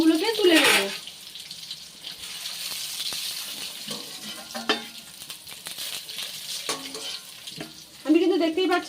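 Eggs are frying in hot oil in a pan and are gently stirred, giving a soft sizzle broken by several sharper bursts of scraping and spattering.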